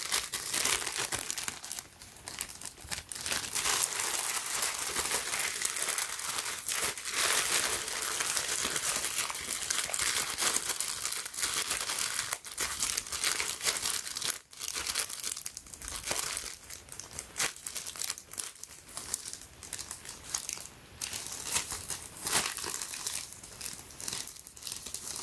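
A taped plastic outer bag holding a Supreme Small Box Logo hooded sweatshirt is opened by hand, producing loud, continuous close-up crinkling and tearing of plastic and tape that runs for about twenty-five seconds without talk.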